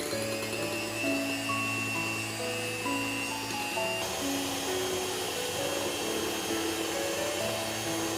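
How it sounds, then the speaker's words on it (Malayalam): An electric mixer beats unsweetened whipping cream at low speed, a continuous close motor whir with a buzzing whine and faint shifting tones, steady throughout with no voices. "ചെറിയ സ്പീഡിലൊന്ന് ബീറ്റ് ചെയ്യാം."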